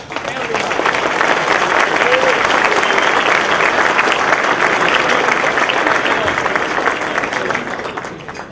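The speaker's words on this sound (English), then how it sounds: "I just want to give them another round of applause" At a State Policy Network awards event, the audience gives the hardworking event staff a warm round of applause, a loud, dense wash of clapping that swells quickly and holds steady for several seconds before tapering off.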